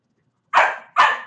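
Two sharp dog barks in quick succession, loud and close, following a moment of silence.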